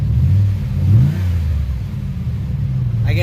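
A 2007 Pontiac Grand Prix GXP engine, tuned with altered programming, revs up and falls back on the throttle, a close, loud low rumble that rises and eases in a couple of swells.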